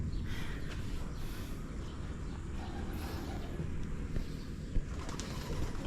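Low, soft cooing of pigeons or doves repeats in a steady murmur, close by, against a constant background rumble.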